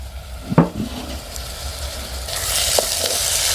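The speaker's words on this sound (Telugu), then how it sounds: "నూనె కాగిన తర్వాత మనం ఉల్లిపాయలు కట్ చేసిన ముక్కలు కూడా వేసేసుకోవాలి" Chopped onions, tomatoes and green chillies frying in hot oil for a prawn curry: a clink of a stirring spoon, then a steady sizzle that swells louder and brighter toward the end.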